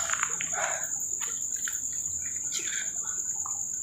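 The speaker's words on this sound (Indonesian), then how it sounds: "Gerombolan walet gua di sini sambut teman-teman." Swiftlets calling inside an abandoned, overgrown factory building: many quick high chirps and twitters scattered over a steady high insect-like whine, moderately near, no talk.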